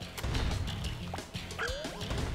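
Dogs from the video game Yoshi's Woolly World bark in quick yappy bursts, several short loud barks with a whimpering whine near the end over a low game backdrop.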